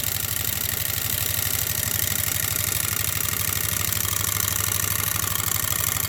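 An antique small-bore engine with an 8-inch piston, rated at about a quarter horsepower, runs a little fast, producing a loud, close, steady rapid thumping throughout.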